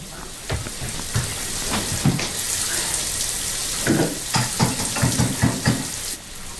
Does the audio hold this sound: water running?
yes